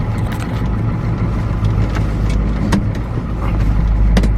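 A 1983 Ford 6.9 IDI diesel 4x4 truck drives along with a steady, loud, low engine drone and road rumble, plus occasional cab rattles and ticks throughout.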